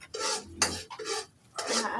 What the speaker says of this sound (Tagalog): Yan, hinahalo na natin.